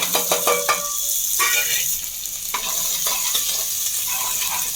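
Curry leaves and finely chopped onion tossed into hot oil with mustard seeds for ladyfinger sambar, a sharp close burst of crackling then a steady sizzle with brief stirring scrapes.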